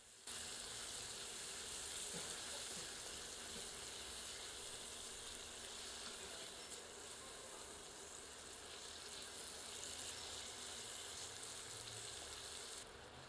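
Tomatoes with salt and spices fry in a pan over medium heat, giving a steady, even sizzle that holds unchanged from start to finish, faint and close, with no voices over it.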